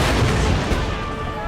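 Cannon artillery fire in the Empire: Total War strategy game, a dense, continuous barrage of booming shots blending into a loud rumbling roar.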